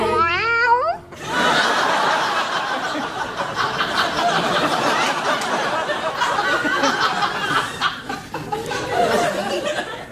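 A voice imitates a cat's meow for about a second on a late-night TV talk show, then the studio audience bursts into loud, sustained laughter.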